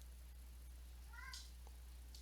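A single short, faint meow from a house cat rises over a steady low hum in a quiet indoor room, followed by small incidental clicks and rustles.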